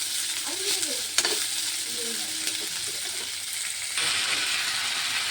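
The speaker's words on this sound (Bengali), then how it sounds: "পেঁয়াজটা দিয়ে দিই আগে, পেঁয়াজটা ভাজা ভাজা করে" Onions and potatoes fry in a pan as they are stirred, a close continuous sizzle broken by scraping and clinks, with brief faint voices in the background and the sizzle rising louder near the end.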